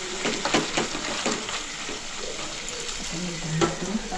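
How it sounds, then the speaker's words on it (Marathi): Dry mutton sukka, Alibaug style, frying in a pot with steady sizzling and scraping stirs, close and moderately loud, with faint voices now and then. "सुकं मटण टोपात गेलं."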